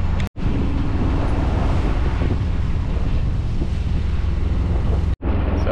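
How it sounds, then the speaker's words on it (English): Strong wind of around 20 knots roars across the microphone on a sailing boat, a loud, continuous buffeting rush with water noise beneath, broken only by two brief dropouts. "Now the wind picked up a lot"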